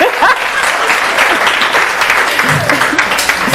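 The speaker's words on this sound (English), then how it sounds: "Y'all can clap." An audience of students at a leadership event with podcast hosts breaks into steady, dense clapping that holds at an even level throughout, with faint voices mixed in.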